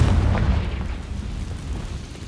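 A Confringo fire spell blasts in Hogwarts Legacy: a deep, booming explosion that hits hard at the start, then rolls off into a low rumble across a couple of seconds, with no voices.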